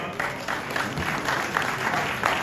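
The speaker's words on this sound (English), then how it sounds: "Please, a round of applause for our speaker" A crowd applauds a speaker at the Parliament of Ghana's launch of the 2025 Democracy Cup. The clapping is steady and dense throughout, with no break.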